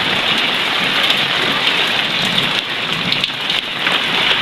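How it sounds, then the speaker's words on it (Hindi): Heavy rain pours down in a dense, continuous hiss, loud and close, with no voices over it. "बारिश हो रही है, तेज़ तेज़ बारिश हो रही है"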